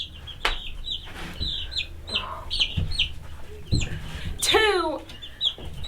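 Young meat birds and layer chicks, all hens, clucking and cheeping close by in short irregular calls, with a brief bit of talk and some handling noise mixed in.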